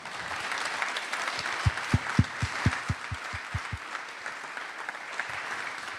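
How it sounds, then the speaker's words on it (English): Audience applause for Luca and the Lancia team at a car launch event, a sustained wash of clapping from the crowd with a short run of louder, rhythmic low thumps rising through the middle. "you are right to applaud Luca and the Lancia team"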